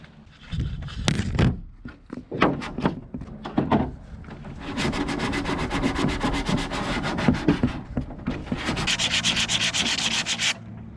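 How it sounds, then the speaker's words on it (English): Steady, close hand sanding of body filler on a car body kit, rapid back-and-forth scraping strokes that start in short rubs and settle into a continuous rhythmic rasp. "This is gonna take a lot of sanding."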